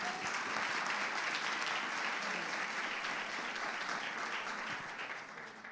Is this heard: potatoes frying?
no